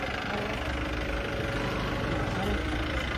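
A tractor engine idles with a dense, steady low rumble through the whole stretch, partly masked by people talking over it.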